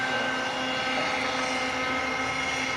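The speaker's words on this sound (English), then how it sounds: "you can see the helicopter doing a lot of complex things" An autonomous research helicopter flies with a steady, droning rotor and engine roar that holds evenly throughout, with no talk.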